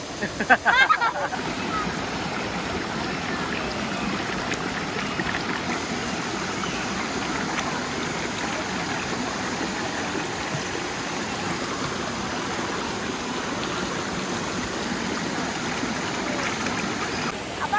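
Steady rushing water flows continuously, a full broadband wash like a stream or small cascade close by, with no break.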